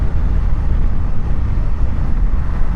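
Loud, constant low-pitched wind buffeting roars across the microphone while riding a 2025 Yamaha Tracer 7 GT motorcycle, a steady rushing blast with no pauses.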